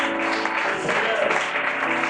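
Congregation clapping and cheering in church during a Pentecostal-style evangelist's exhortation, a steady dense wash of applause with voices mixed in throughout.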